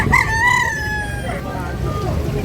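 One rooster gives a single crow close by at a public market, the call starting strong and trailing off within a second, over a busy background murmur.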